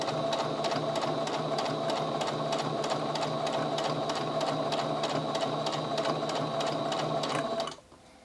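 A sewing machine runs steadily for about eight seconds, stitching a ruffle along the edge of the fabric with a fast, even rhythmic chatter, then stops abruptly at the end.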